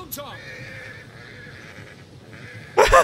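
Horses neigh in the Total War: Attila video game, with a sharp whinny at the start, faint clip-clop in between, and a loud burst of neighing near the end.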